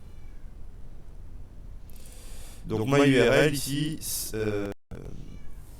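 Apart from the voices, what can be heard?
cat meowing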